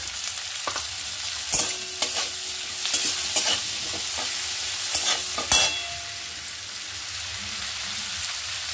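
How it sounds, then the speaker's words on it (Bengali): Quinoa frying lightly in a pan with salt and turmeric gives a steady, close sizzle, broken by several sharp scraping and stirring knocks of a utensil against the pan. "খুব হালকা ফ্রাই করব।"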